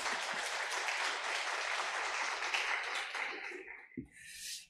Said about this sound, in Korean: 우리 목사님 환영의 마음과 함께 큰 박수로 한번 모시겠습니다